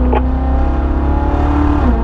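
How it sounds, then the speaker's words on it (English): A car engine roars steadily at high revs on a race track, loud and close, shifting up to fifth gear toward about 119 mph, with a slight pitch shift near the end as it accelerates. "Squeeze the throttle down, middle of the track up to 5th gear"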